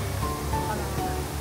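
A flowing water feature at the Nabana no Sato illumination park in Japan gives a soft, continuous wash of running water, faint and steady, with a low tonal hum in the background.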